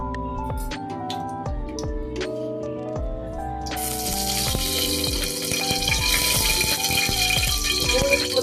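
Oil poured into a pan for cooking Kaada Thotakura curry, metallic rattling and clinks at first, then a loud sustained sizzle rising as the oil heats, with music underneath.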